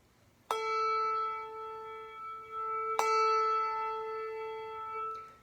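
Two handbells are rung one after the other, each giving a clear bright strike followed by a long, sustained ringing decay. The tones are close and fairly loud, with no talking.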